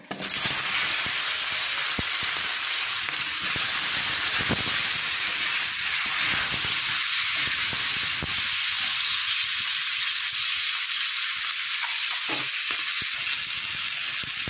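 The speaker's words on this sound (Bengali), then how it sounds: "মাছ ভাজার তেলেই আমি সিমগুলো ভেজে নেব।" Flat beans frying in oil left over from frying fish, giving a loud, close, continuous hiss of sizzling that holds steady throughout, with a few faint clicks underneath.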